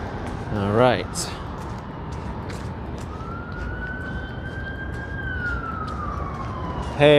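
An ambulance siren on a downtown Boston street among traffic, a steady wail that carries faintly through the clip under street noise, with a louder passing sound near the start.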